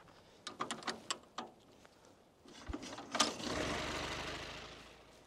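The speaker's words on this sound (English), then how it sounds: "And lastly, we use the crank handle in the front to start the engine." A hand-cranked M1917 light tank engine turns over with a series of sharp mechanical clanks and knocks, then catches into a steady rumbling idle, close and moderately loud.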